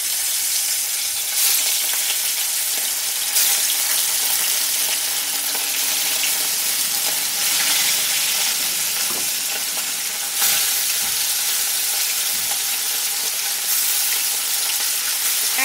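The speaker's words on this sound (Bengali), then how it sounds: "এখন আমি মাছগুলোকে ভেজে নেব।" Pieces of bele fish (sand goby), a soft fish, fry in hot oil in a pan, making a loud, steady hiss and crackle that carries on unbroken throughout.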